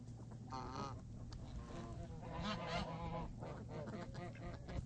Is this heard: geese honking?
yes